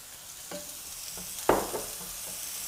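Oil poured into a pan of white beech mushrooms being stir-fried, a soft steady sizzle with a few light scrapes, then a sudden louder hiss as the oil hits before settling back to gentle frying.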